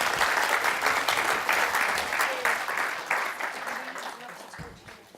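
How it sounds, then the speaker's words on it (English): Sustained applause from a conference audience for a panel, dense steady clapping that tapers off gradually toward the end. "please give a round of applause to our panel"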